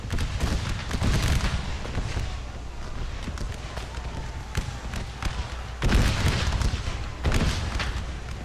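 Gunfire in a Napoleon ACW mod battle at Knoxville in a Civil War setting: repeated musket volleys and scattered shots crack through a steady battle din, with heavier bursts near the start and again around the sixth second.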